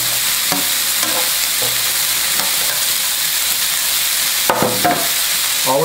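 Vegetables and andouille sausage sautéing in a pan for Cajun chicken, a continuous close sizzle broken by several sharp scraping stirs of a utensil.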